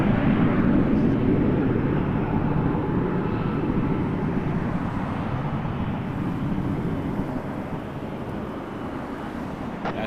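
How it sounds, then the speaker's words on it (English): A Hawker Beechcraft 400 XP business jet at Toronto Pearson Airport gives a steady, loud, broadband roar that fades slightly over ten seconds, with no talk over it. "That's a Hawker Beechcraft 400 XP."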